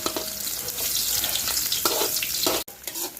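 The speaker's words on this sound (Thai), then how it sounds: "ตั้งกระทะใส่น้ำมัน แล้วก็เจียวกระเทียมครับ" Garlic fries in oil, sizzling and crackling steadily in a hot pan, with a few clinks and scrapes of stirring.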